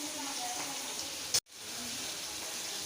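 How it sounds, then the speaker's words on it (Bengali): A hilsa fish head frying in a pan gives a steady, fairly quiet hiss and sizzle, broken by a momentary gap partway through. "ইলিশ মাছের মাথাটা দেখো ভাজা হচ্ছে"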